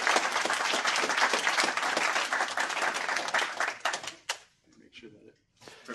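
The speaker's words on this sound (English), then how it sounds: "So would you mind all giving Sebastian a round of applause and inviting him?" An audience at a PyData Ann Arbor deep learning talk breaks into dense, close applause that holds for several seconds and then tapers off into a few scattered claps.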